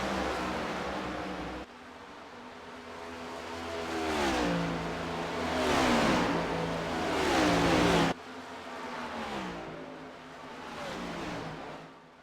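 Stock cars racing on the Indianapolis oval in a Cup Series event, a loud sustained engine roar rising and falling as cars accelerate and pass, with abrupt cuts between passes and no talk.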